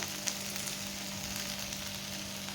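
Cooked okra is stirred with coarse peanut powder in a hot pan, a soft continuous sizzle with no pauses.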